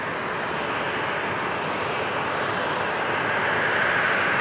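Steady broadband roar of a Qantas Boeing 737 jet at Brisbane Airport, heard continuously and fairly close with no talk, its whine swelling slightly toward the end.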